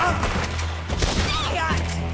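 Gunfire from the video game Red Dead Redemption 2 crackles in a quick burst of several shots amid a chaotic firefight, with shouted voices over it.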